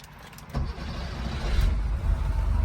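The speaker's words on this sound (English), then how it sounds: "let's fire this car up" A 1988 Porsche 911 engine cranks and catches, settling into a low idling rumble close by, preceded by a brief mechanical whir.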